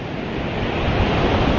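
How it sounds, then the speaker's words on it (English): Loud, close surf breaks and churns on an El Nido beach in the Philippines, a dense continuous roar of water with wind buffeting the microphone, no voices. "Gnarly waves here, bro."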